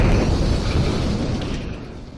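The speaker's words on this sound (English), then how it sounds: "the video doesn't show the explosion, but you can hear it." A deep, rumbling explosion with a heavy low boom that rolls on and slowly fades, loud and sustained throughout.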